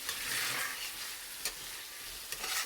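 Chicken in a yogurt mixture fries gently in a pan over a low flame, a soft continuous sizzle with a few scraping strokes from steady stirring, quiet and close.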